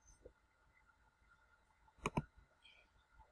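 A computer mouse gives a quick double click, crisp and close, in an otherwise quiet room with a few faint taps before it.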